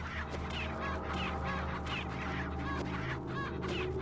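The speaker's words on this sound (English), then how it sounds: "Chicken!" Chickens cluck in the Resident Evil 4 video game, repeated bursts of clucking over a steady droning game ambience, fairly close and continuous.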